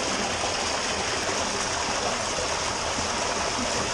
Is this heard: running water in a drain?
yes